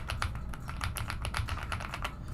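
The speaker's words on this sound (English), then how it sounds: "this is an amazing keyboard" Rapid, steady clatter of fingers typing on a computer keyboard, close and crisp, with keystrokes running continuously and no talk over them.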